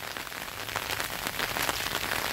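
Heavy rain pours steadily onto a garden in Brazil's Northeast, a dense, continuous hiss of drops striking ground, leaves and an umbrella overhead, close and unbroken with no voices.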